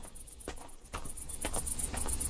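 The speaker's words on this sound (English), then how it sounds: "And we've got some loud crickets." Loud, close crickets chirp in rapid repeating bursts, with some soft rustling and footsteps beneath.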